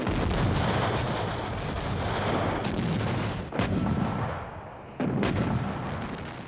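First World War artillery fire rumbles as a dense, continuous barrage, with sharper cracking reports standing out around the middle and again later, loud and heavy throughout.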